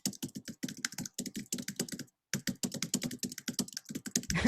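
Rapid keyboard typing runs steadily and close, a dense stream of clicking keystrokes that stops for a brief pause midway and then resumes.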